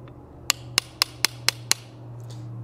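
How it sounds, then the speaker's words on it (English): Hammer striking metal while forging a gothic style bottle opener: six sharp, ringing blows at an even, quick rhythm over a low steady hum, close and loud. "as you're hammering the material away, you're rotating the tool"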